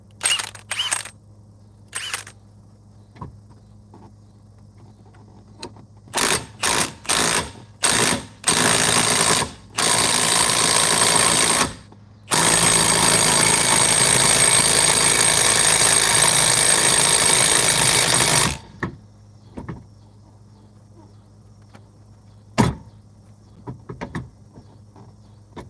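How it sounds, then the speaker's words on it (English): A Milwaukee mid-torque impact wrench with a 6 amp Forge battery tightens a fastener, starting with short bursts of loud rattling hammering, then long continuous runs and a few light clicks afterward. "Let's tighten it up with the Milwaukee mid-torque with a 6 amp forge battery."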